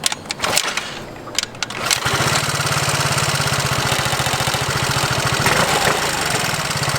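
A Vespa SXL 150 scooter engine is kick-started: a few rough mechanical kicks and clatter, then the single-cylinder motor catches and settles into a loud, steady, close-up idle with a fast putter.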